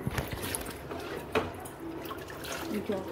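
Water is poured over a small deity idol as it is bathed after soaping, a running, splashing trickle heard close with some dripping.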